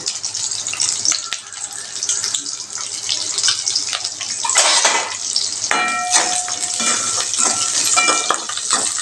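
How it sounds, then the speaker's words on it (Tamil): Small shallots with curry leaves frying in hot oil in a pan for a drumstick kara kuzhambu, a steady close sizzle with stirring and utensil scrapes throughout, no talk. "இது நல்லா வதங்கி வருதுங்க பாருங்கள் வெங்காயம்"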